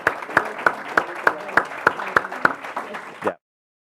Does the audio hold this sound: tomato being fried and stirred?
no